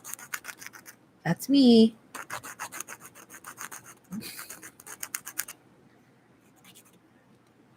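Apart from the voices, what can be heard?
filing fingernails with a nail file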